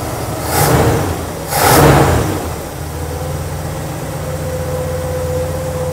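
A car engine cranks over and starts, settling into a steady idle during a vacuum gauge test, with two louder bursts of revving early on before a continuous running hum with a faint whine.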